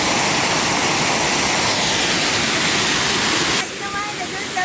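A large waterfall pours into a deep plunge pool on a mountain headwater stream, a loud, dense, unbroken roar that drops slightly in level near the end.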